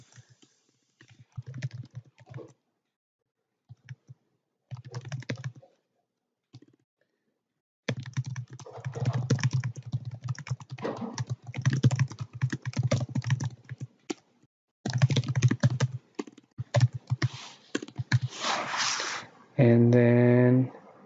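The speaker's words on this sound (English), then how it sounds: "and then I have to type something here" Typing on a computer keyboard comes in scattered bursts of quick, close clicks, with pauses between them and a longer run in the second half, ending in a brief louder tone.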